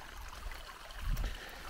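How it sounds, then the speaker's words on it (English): Water flows and trickles at low volume, a soft continuous babble with a slight gurgle midway, outdoors with no voices. "this is the water from the creek."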